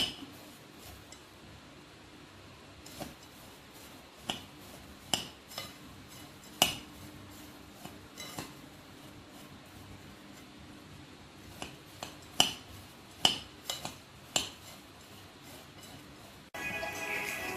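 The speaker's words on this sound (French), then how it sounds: "à verser le beurre sur le biscuit peu à peu. Et on mélange." Crushed biscuit being mixed with poured butter in a bowl for a no-bake peach dessert, heard as sparse, irregular clinks and taps of a utensil against the bowl over a quiet background, with a few sharper knocks toward the end.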